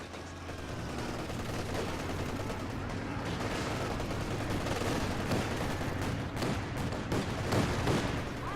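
Suppressive machine gun fire in the Company of Heroes 2 video game, continuous rapid bursts of gunfire with layered battle noise, loud and dense throughout.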